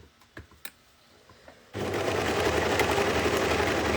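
A sewing machine stitches the underarm seam of a baby tee: after some faint handling taps, a steady, close whirring drone runs without a break for the last couple of seconds.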